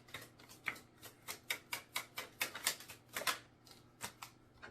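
Tarot cards being shuffled by hand, a quick run of about a dozen crisp, papery riffling slaps in an uneven rhythm, close and fairly quiet with no talking.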